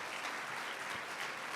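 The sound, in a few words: applause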